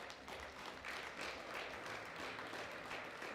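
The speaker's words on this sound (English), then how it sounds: "Let's give him a big round of applause." An audience at the European Equipped Powerlifting Championships applauds a lifter, a fairly faint, steady wash of clapping with slight swells, heard from a distance.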